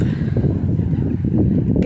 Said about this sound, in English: Yes, it is very, very windy.